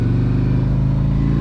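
Engine of a 2021 Harley-Davidson Electra Glide Standard motorcycle, a steady, loud, close low rumble idling evenly throughout with no talk.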